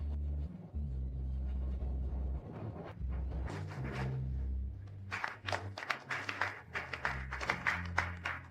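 An audience at a wedding stage applauds the groom, a dense burst of clapping that swells in the second half after an opening stretch of low rumbling background.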